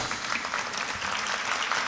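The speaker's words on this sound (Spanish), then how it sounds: "Un fuerte aplauso," A church congregation claps for visitors during a Spanish-language service, with steady, dense applause throughout at close range and no talking.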